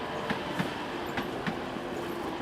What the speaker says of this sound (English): Got Transpennine Express just coming in on its way to Cleethorpes